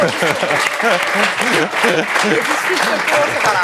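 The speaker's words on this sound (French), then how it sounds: "on peut l'applaudir" Studio audience applause on a French football TV show, loud continuous clapping with voices talking over it the whole time.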